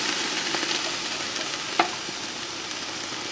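Flank steak sizzles steadily on a grill, a continuous close hiss and crackle with one brief sharper scrape or tap partway through as the meat is flipped.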